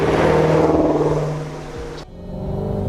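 A 2017 Shelby GT350R's engine drones loud and steady while driving, a strong harmonic roar that eases off then drops abruptly to a lower, quieter rumble.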